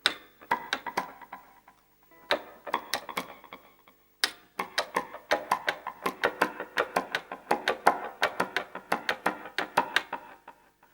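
Crisp, percussive guitar strums repeat a quick long-short-short pattern, played alone and fairly quietly, with a couple of short pauses before it settles into a steady groove.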